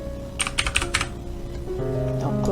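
A few quick keystrokes on a computer keyboard entering a four-digit password, clustered closely and fairly near, followed by a steadier electronic tone from the computer.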